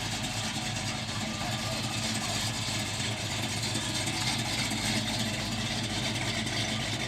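A car's engine idles steadily at a car show, a continuous low rumble heard up close for several seconds with no talking.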